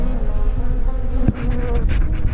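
Dense, loud buzzing of many honey bees humming steadily up close inside a hive box, with a brief knock partway through.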